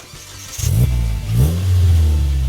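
A 2.7-litre ethanol-fuelled turbocharged Toyota Hilux engine revs up twice, loud and close, rising and falling with a whistling turbo spool over a rumbling idle.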